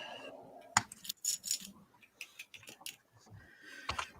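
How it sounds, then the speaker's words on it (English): Small hard puzzle pieces are shuffled and clicked together in quick, irregular bursts of light rattling and tapping, close by. "let me shuffle these and make noises so I can get the pieces pulled out that I needed"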